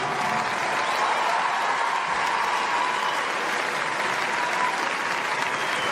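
A large crowd at the Kaizen film screening keeps up a loud, sustained round of clapping, an even unbroken roar of many hands with no pause.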